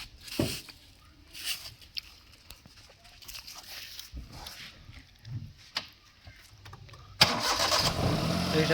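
A 2012 Hyundai Eon car engine cranks and catches after some clicks and handling noises, then settles into a steady, loud idle up close.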